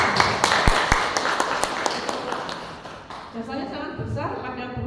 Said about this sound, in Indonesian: Tepuk tangan untuk PGRI.